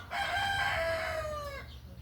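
A rooster crows once from a village chicken yard, a single drawn-out cock-a-doodle-doo of moderate loudness with a slight distance, over faint background hum.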